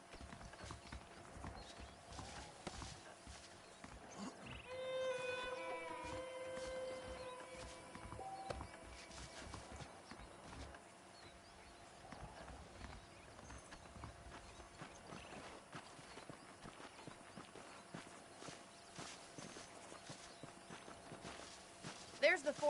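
Horse hooves clip-clop at a steady walking pace in the Red Dead Redemption western video game, mid-distance and fairly soft, alongside ambient game sounds and music, with someone talking over them.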